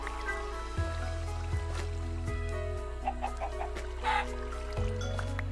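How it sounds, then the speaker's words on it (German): Chicken clucks from a video game, where a chicken is being killed, come through faintly over a continuous trickling, stream-like backdrop and a steady low tonal hum. "Mal schnell ein Huhn getötet"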